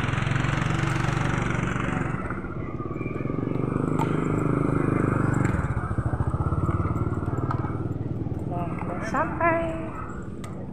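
A motorcycle engine runs on the ride home from a traditional market, a steady close rumble that eases off partway through, with a few faint higher chirps near the end.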